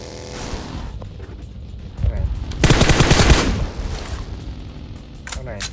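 Automatic gunfire in the mobile battle-royale game PUBG Mobile: a loud cluster of rapid shots builds mid-clip and lasts about a second and a half, set among quieter game noise while a player talks.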